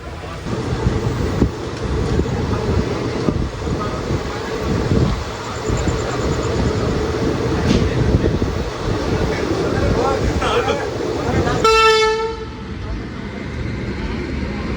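An Indian Rajya Rani Express train running at speed, with loud steady rumble and rattle throughout, then a locomotive horn sounding near the end.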